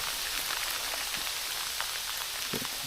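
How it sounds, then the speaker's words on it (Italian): Hail and rain pelting down during a bicycle ride, a steady dense patter of drops striking surfaces close by, with a few sharper individual impacts and no talking. "Non era prevista sta pioggia grandine."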